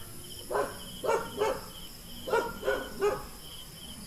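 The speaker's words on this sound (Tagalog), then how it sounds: "May isang aso, ayun, oh." A dog at an abandoned mountain house barks six times in spaced single and double woofs, moderately close, over a constant chirring of insects.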